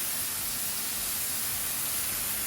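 Meat sears on a rack laid over it, producing a loud, continuous, dense sizzling hiss close by with no pauses.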